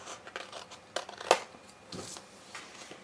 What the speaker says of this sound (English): Get some scissors and trim that off just a little.